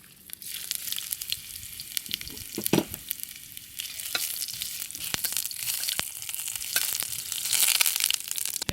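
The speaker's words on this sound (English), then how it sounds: "Then I stir fry the ginger first." Ginger stir-fried in oil in a wok crackles and sizzles up close, with scraping clicks of the spatula against the pan and no speech.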